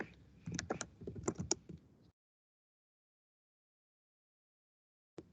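Quick bursts of typing on a computer keyboard, close and crisp for about two seconds, then silence and one last faint click.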